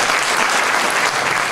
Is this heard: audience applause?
yes